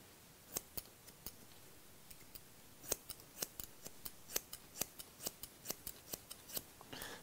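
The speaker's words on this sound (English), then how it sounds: "just the cutting blade moves, as if you're moving both blades, it's not gonna cut the hair, especially hair this thick." Sharp scissor snips cutting thick hair during a short men's clipper cut, a steady run of around twenty crisp, close clicks at an even, quick rhythm, with no talking.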